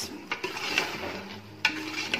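A spoon stirs marrow sabzi in a pan after garam masala and black pepper are added, with a low sizzle under a few sharp metal clinks and scrapes, close and fairly quiet.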